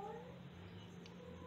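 A pet cat meows with a drawn-out, complaining cry, faint and alone against a quiet indoor background.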